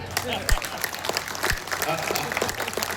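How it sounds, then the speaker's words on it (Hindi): Audience applause at an all-India poets' gathering in Bhagalpur, welcoming a poet: steady, dense clapping from a crowd at moderate level, with a few sharper claps and voices mixed faintly underneath. "आप सबसे निवेदन करता हूँ मेरे स्वागत में दोबारा जोरदार तालियां बजाएं"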